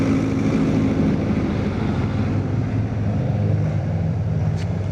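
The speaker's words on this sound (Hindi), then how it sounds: "ये देखो सामने हेलीकॉप्टर जा रहे" Helicopters flying overhead in a mountain valley, a steady droning rotor and engine rumble that stays loud and even throughout, mixed with ambient road noise and no talking.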